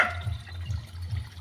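Water flows and trickles in a fish pond with plants, a close, continuous gurgle with small dripping splashes, heard alone.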